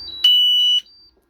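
A single sharp electronic alarm buzzer from a battery management system's low-voltage shutdown sounds loud and close for about half a second, then cuts off.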